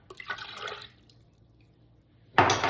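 Water is poured into a bowl over eggs, vegetable oil and vanilla extract for a chocolate cake batter, giving a short close trickling splash, a quiet pause, then a louder burst of pouring.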